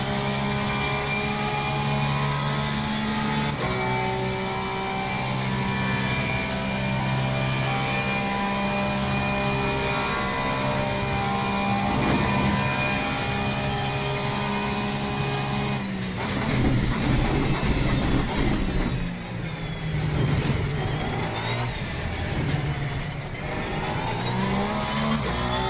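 Porsche 911 GT3 R race car in Assetto Corsa Competizione at Spa, its engine droning loud and steady with rising and falling harmonics, then rougher revving and gear changes toward the end.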